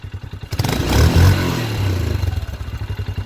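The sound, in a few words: motorcycle exhaust sound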